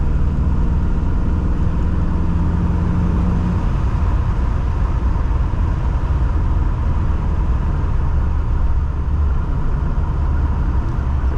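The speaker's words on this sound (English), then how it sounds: "I'll give it a little bit of a squeeze of throttle." A 1970 Mercedes-Benz 300SEL 6.3 engine pulls under throttle with a loud, steady, deep rumble that holds throughout, heard close from inside the car while driving.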